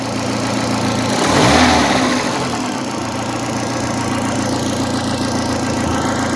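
An Opel Corsa 1.4i engine, fitted with new idle air valves, runs steadily close by, rises once in a brief rev from a throttle tap, then settles back to a loud, even idle with no talking.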